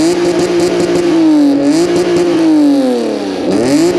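An Acura NSX sports car engine revs repeatedly, its loud Comtech aftermarket exhaust rising and falling in pitch close by, with a raspy growl and no talking.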